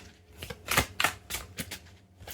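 Tarot cards shuffled by hand in a few quick riffling bursts, crisp papery flutters separated by short pauses, close and fairly quiet with no talking.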